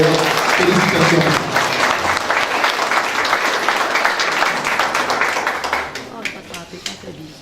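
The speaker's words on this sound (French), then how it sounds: "Alors on l'applaudit très très fort et véritable ambassadeur." An audience claps warmly for an honoree, a loud dense round of applause that holds for several seconds, then thins into scattered individual claps before fading out.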